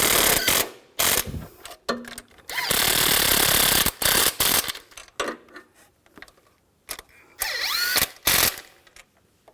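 A hand ratchet snugs down the nuts on a transmission mount of a 2011-2019 Ford Explorer, giving bursts of rapid clicking pawl sounds close by, separated by brief pauses, with some metallic clanks.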